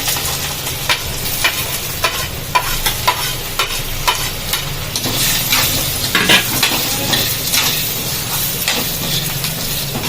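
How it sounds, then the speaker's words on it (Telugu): Green chilies fry in hot oil in a pan, giving a steady close sizzle broken by scraping stirs and light utensil clinks, with no talking. "కొంచెం ఆయిల్ వేసుకొని పచ్చిమిర్చి వేసేసుకున్నాం పచ్చిమిర్చి అయితే మంచిగా వేయించుకోవాలి"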